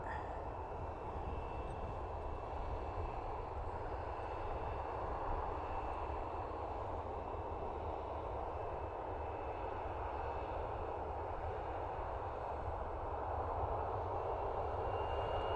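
Ryanair airliner engines at Dublin Airport, a steady broad roar holding at a constant level throughout, distant and unbroken, with no talk.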